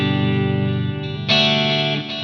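Electric guitar played through a Fractal Axe-Fx style effects unit set to a large hall reverb, sustained chords ringing out with a lush, wide wash, then a bright, louder strum swelling and decaying near the end, no talking.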